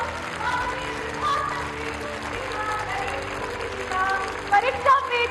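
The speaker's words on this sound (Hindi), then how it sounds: "तालियों की जोरदार गड़गड़ाहट।" Loud applause fills an indoor stadium, Talkatora Stadium, greeting the Prime Minister's arrival at an exam-discussion event, with dense clapping that swells and surges and the crowd roaring throughout.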